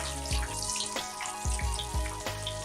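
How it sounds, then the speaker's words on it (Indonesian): Battered banana pieces are dropped into hot oil one after another, each landing with a low plop followed by bubbling sizzle, close and steady throughout. "goreng potongan pisang Kentucky seperti ini"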